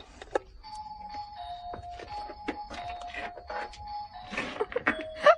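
A doorbell chimes in a radio drama, with sustained ringing tones over soft footsteps and light movement, and a brief flurry of activity near the end.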